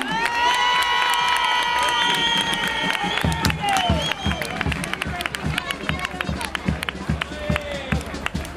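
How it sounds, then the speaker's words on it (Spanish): Carnival crowd at a San Pedro Alcántara chirigota performance cheers and whoops loudly, then breaks into rhythmic applause with shouts continuing over it, a lively, close, sustained din. "¡Un aplauso a los Frankenstein!"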